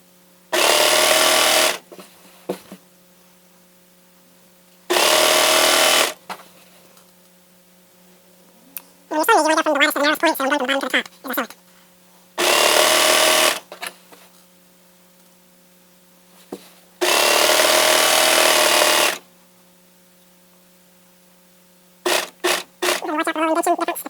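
A sewing machine stitches a skirt seam in several loud, steady bursts of a few seconds each, separated by quiet pauses, with brief speech in between.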